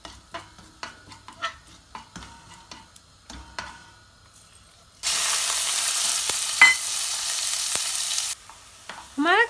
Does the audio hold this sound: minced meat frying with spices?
yes